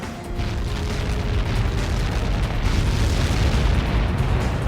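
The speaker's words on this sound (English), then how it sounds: "How many got caught in that explosion?" A massive explosion in the Ace Combat 7: Skies Unknown air combat game rumbles on as a loud, sustained deep roar and boom that swells slightly as it continues.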